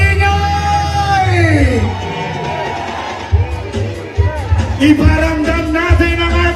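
A rally crowd in the Philippines roars and shouts in loud waves, with bellows and whoops rising over a sustained din and a voice calling out over the noise.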